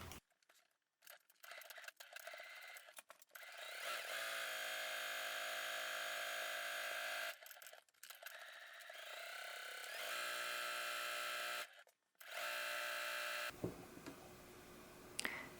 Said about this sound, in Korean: 쭉 한 바퀴 사각형 또 재봉을 해주고 X자 재봉 들어가도록 하겠습니다